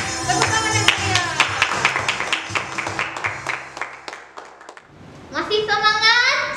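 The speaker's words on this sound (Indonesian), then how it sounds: "Tepuk tangan yang meriah." Children clap their hands at an online Sunday school service, with sharp, rhythmic claps for several seconds under young voices, then a pause before voices rise again.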